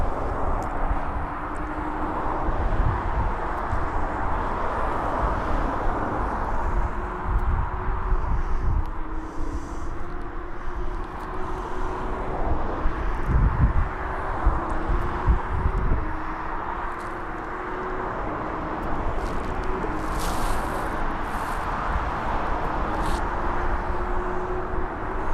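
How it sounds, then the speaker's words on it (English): Ryanair Boeing 737 Max 8 departing East Midlands Airport for Tenerife, a steady distant jet roar with a slowly rising engine whine, heard alone throughout. "So Ryanair 737 Max 8 off to Tenerife."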